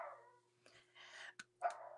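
A pet dog named Frank barking indoors, a few sharp yips and barks in quick uneven bursts, fairly faint against a steady low hum.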